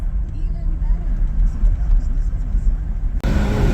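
A car drives over a road glazed in sheet ice, giving a continuous heavy rumble of tires and engine that holds steady and close, then shifts abruptly near the end.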